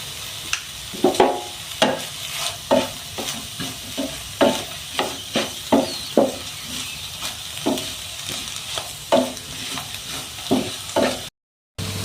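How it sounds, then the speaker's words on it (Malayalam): Bitter gourd and onions with a pinch of turmeric sauté in an oiled pan, a steady frying sizzle broken by repeated close spatula scrapes and stirs in an irregular rhythm throughout. "പാവയ്ക്കായ ഉള്ളിയെല്ലാം നല്ലതുപോലെ വഴറ്റിയെടുത്തിട്ടുണ്ട്"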